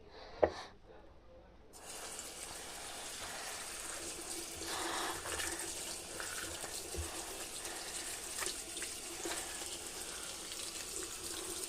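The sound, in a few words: water running from a tap, filling with foam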